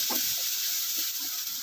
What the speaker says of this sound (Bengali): তো এই পর্যায়ে আরেকবার আমি উল্টে পাল্টিয়ে নিব